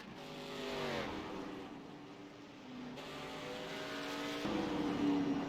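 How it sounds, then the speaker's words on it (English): A race car engine from the K&N series at Phoenix, running on despite front end damage to the 41 car, with a steady engine drone and shifting pitch that swells slightly louder toward the end. "The engine is still running."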